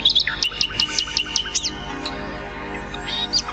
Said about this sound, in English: at sunrise the emperor was woken by the birds singing his beautiful song